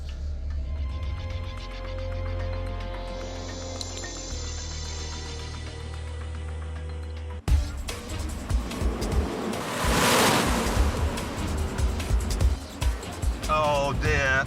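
A Renault Twingo drives through a sewage tunnel beneath Belfast, loud water splashing and surging around it in the second half after a steady engine drone, with turbulent rushing bursts echoing in the enclosed space.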